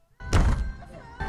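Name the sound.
car jolting over a pothole on a highway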